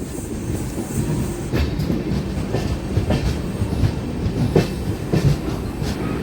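An Indian passenger train with LHB coaches rolls by on the Padmavathi Express route, a loud, continuous rumble with rhythmic wheel clatter over rail joints, close and without voices.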